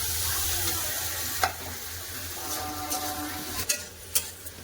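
Chopped tomatoes frying with onions in a pan, a soft continuous sizzle with a low hum beneath, broken by a few sharp clinks and stirring scrapes toward the end, no voices.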